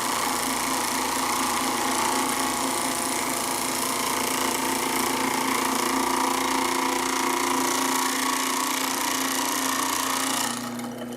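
Home shaved ice machine grinding ice cubes in its chamber, a loud steady motor whine with a rough crushing rasp running nearly unbroken, then easing near the end.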